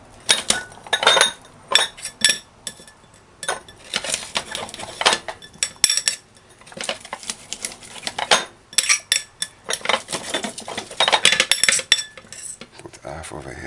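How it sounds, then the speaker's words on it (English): Garlic being mashed and handled in a kitchen while making pork stew, with busy clinks of utensils against dishes and pans in irregular bursts, close and fairly loud, with no talking. "Mash the garlic."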